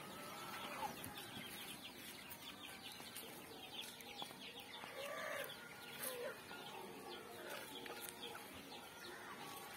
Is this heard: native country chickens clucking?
yes